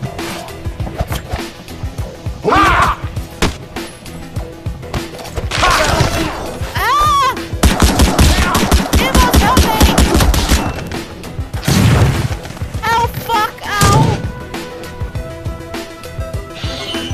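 Gunfire and violent smashing in the video game Madness Project Nexus 2 story mode, including shotgun blasts, in loud bursts and rapid volleys with crashes and thwacks between quieter stretches, under game music.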